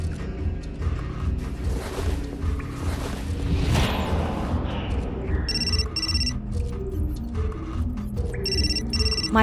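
A mobile phone rings in the video game Still Life 2, repeated electronic ring bursts entering midway over a busy, rumbling game soundscape.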